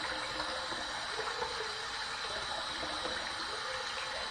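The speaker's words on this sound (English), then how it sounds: "Let's heat up the razor under some hot water." Hot tap water gushes steadily into a sink over a razor, a continuous close hiss and splash at constant level for several seconds, with no talking.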